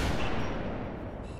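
Rapid gunfire in the shooter Halo 3 rattles on as a dense, continuous burst of overlapping shots with a low booming body, fairly quiet and fading slightly toward the end, no voices over it.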